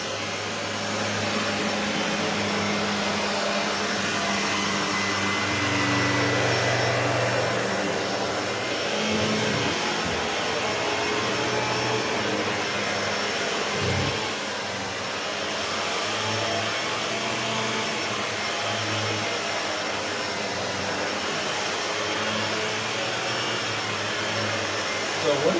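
A Shark Lift-Away ZU560 upright vacuum runs at maximum suction with a loud, steady roaring whoosh throughout, a constant motor drone with brief dips as the cleaner moves across the floor.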